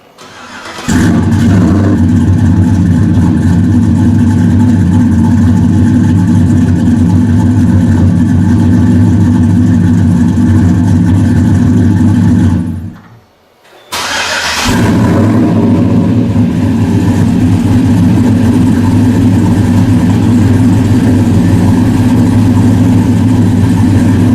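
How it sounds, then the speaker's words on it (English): A 2012 GMC Sierra pickup truck engine cranks and catches, then settles into a steady, loud idle; after a brief cutout it restarts and keeps rumbling evenly. "we'll go ahead and get this truck started"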